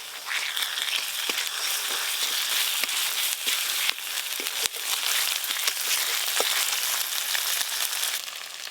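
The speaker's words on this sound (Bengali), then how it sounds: "আদা রসুন পেঁয়াজ ভালো করে তো ভাজা হয়ে গেল" Onion, ginger and garlic paste frying in a pan, a steady dense sizzle with small scattered pops and crackles running unbroken from start to end.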